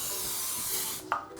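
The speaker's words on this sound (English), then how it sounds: "Here I have non-stick cooking spray and I'm going to grease my tin." Non-stick cooking spray greasing a baking tin for a chocolate biscuit cake makes one steady close hiss lasting about a second, ending with a small knock.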